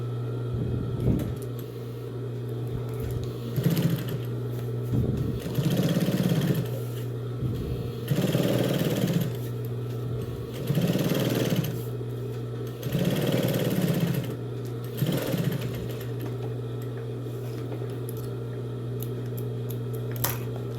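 A sewing machine runs a seam on a fabric pencil case in several separate bursts of stitching, each a few seconds long, with a steady background hum between them. No one speaks.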